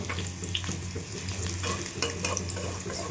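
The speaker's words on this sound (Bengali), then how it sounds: "একদম মাঝারি সাইজের আলুটা লাল লাল করে ভাজা হচ্ছে" Medium-sized potatoes fry in oil until reddish, an even close sizzle with scattered pops and a low steady hum beneath.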